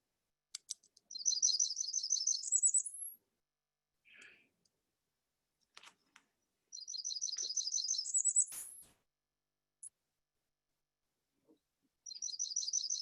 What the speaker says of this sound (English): this is a black Burnian warbler. Here's what they sound like.